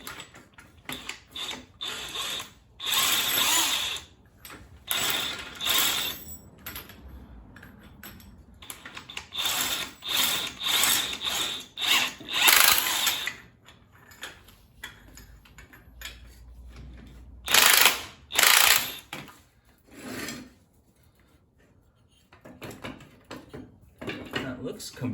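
Ratchet with a 3/4 socket worked on the front end of a 1984 VW Mk1 Rabbit, irregular bursts of sharp ratcheting clicks separated by pauses, close and fairly loud, with some talk in between.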